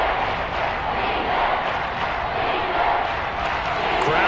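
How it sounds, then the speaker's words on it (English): Football stadium crowd during an NFL game, a broad, steady roar of many voices cheering and yelling, sustained and fairly even throughout. "Crowd getting in it a bit already"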